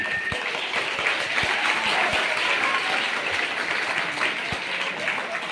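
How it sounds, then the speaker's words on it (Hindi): Audience applause at a school welcome ceremony for a district education officer, a steady dense wash of clapping with a few sharp individual claps standing out, filling the whole stretch at even loudness. "जोरदार ताली।"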